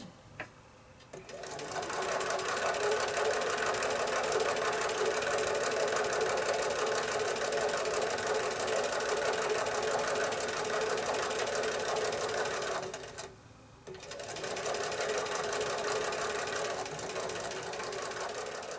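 A sewing machine stitches pinwheel quilt block pieces with a narrow stitch length, running loud and steady for most of the stretch with one brief pause near the end before it starts again.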